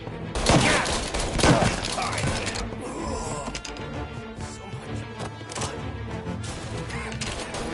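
Heavy gunfire in the video game Mafia Definitive Edition: a loud burst of rapid shots and cracks at the start, then a steady rattle of scattered firing over game music and noise.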